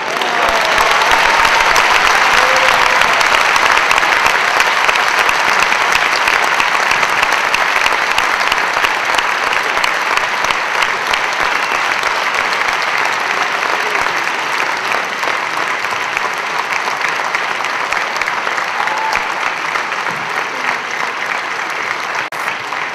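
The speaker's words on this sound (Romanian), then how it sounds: "Să mai aplaudați" Sustained loud applause from a large theatre audience at a stand-up comedy show, a dense steady roar of clapping that holds for the whole stretch and eases slightly toward the end, with no talk over it.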